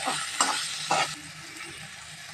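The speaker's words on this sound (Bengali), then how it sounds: "গোবিন্দভোগ চালটা দিয়ে ভালো করে কিন্তু এটা এই তেলের সাথে একটু ভেজে নেব।" Gobindobhog rice sizzles in hot oil in a pan, with three quick stirring scrapes close up over a steady frying hiss.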